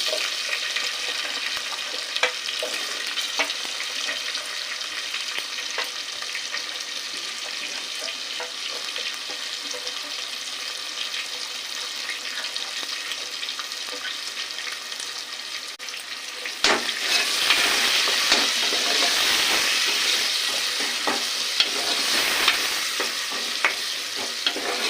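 Green chillies and onions fry in hot oil, giving a steady close crackling sizzle with stirring, which grows louder and brighter partway through and then holds, with no voices.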